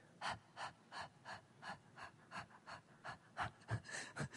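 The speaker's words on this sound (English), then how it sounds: "Everybody together, one hand on your belly button. Do a little bit of panting." A group of people pants together in a steady rhythmic breathing exercise, about a dozen short sharp breaths in a row, quiet and indoors with no talk.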